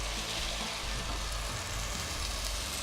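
Red wine, previously used to soak mushrooms, hits a pan of browned steaks and sizzles loudly, a constant dense hiss and crackle close up with a low bubbling undertone and no talk.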